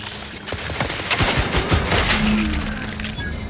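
Rapid bursts of plasma gunfire crackle through a firefight in The Outer Worlds 2, overlapping volleys and sharp impacts piling into a dense, loud fusillade with no voices.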